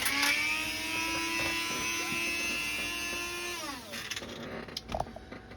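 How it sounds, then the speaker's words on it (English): A Dremel rotary tool whines at high speed for a few seconds, then winds down, followed by light clicks and handling noises nearby. "okay, so that was my Dremel"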